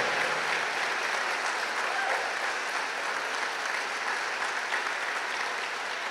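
A church congregation applauds at a mass, a sustained, even wash of many hands clapping throughout, fairly distant and without speech.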